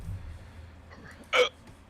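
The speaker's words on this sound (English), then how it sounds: "I've got the hiccups" A single sharp hiccup from a person, loud and close, standing out alone against quiet background noise.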